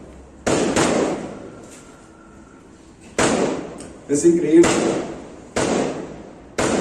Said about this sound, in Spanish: mucha gente sale a tirar los cohetes